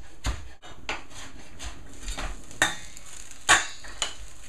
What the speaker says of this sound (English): Some parsley, which I'm going to chop up.